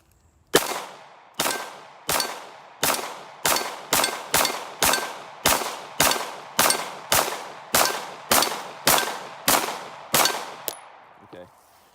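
A Glock pistol in a Micro Roni stabilizer fires at a silhouette target 20 yards away at an outdoor range, sixteen sharp, loud shots in a steady, fairly quick rhythm, each with a short ringing tail, and a faint rustle follows the last.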